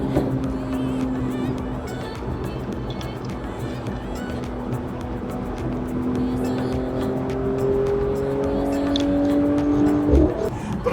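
A 2022 Mercedes-AMG CLS53 with an inline-six engine accelerating smoothly under automatic transmission mode, with a steady, rising engine drone heard from inside the car.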